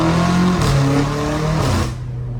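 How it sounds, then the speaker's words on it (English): A BMW M5 Competition engine with catless titanium exhaust and stock tune revs loudly up close, its raspy exhaust note rising and falling before cutting back toward idle. "is basically a Catless titanium exhaust, and this is a stock tune too"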